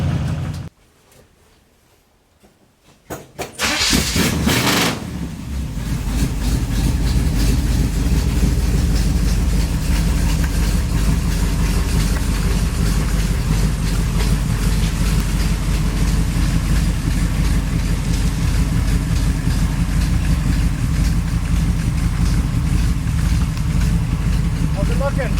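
A 1969 Ford Ranch Wagon V8 cold-starts after a few seconds of near silence, cranking then catching into a loud, steady, rumbling idle that holds to the end.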